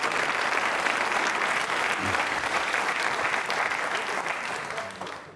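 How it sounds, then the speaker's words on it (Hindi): Loud, dense applause fills a hall at a quiz show for trainee state civil services officers, holding steady before tapering off at the end. "जोरदार तालियां बजाइए।"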